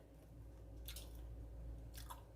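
Kimchi being chewed up close, two short wet crunchy bites about a second apart over a low steady background hum.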